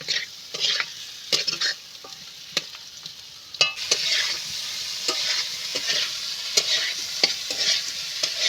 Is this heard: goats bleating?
no